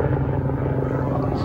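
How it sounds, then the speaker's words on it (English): A helicopter flies overhead, producing a loud, steady low rumble with a pulsing rotor drone that fills the whole moment, with no clear speech over it. "This damn helicopter"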